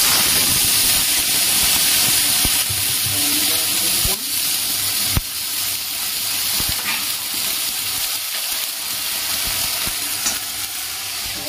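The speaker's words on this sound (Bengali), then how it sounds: "জিরে ফোড়ন দিলাম, গোটা জিরে, শুকনো লঙ্কা" Whole cumin seeds and dried chilies crackle and sizzle in hot oil as a tempering for mung dal, a steady close frying hiss with faint stirring and a few sharp pops throughout.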